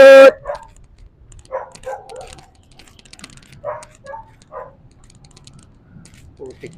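A dog barks once sharply and close at the start, then several fainter barks come among scattered light clicking and rattling.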